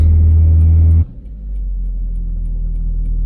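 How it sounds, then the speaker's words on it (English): An old Volvo 940 Turbo engine runs roughly with a misfire, a loud close rumble that abruptly drops off, then settles back into a lower, uneven idle. "It's still misfiring like crazy."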